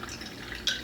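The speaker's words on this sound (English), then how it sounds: "Just going to let that strain into the pitcher." Trifoliate orange juice straining and dripping into a pitcher, a faint steady trickle with a brighter splash of drops near the end, heard alone.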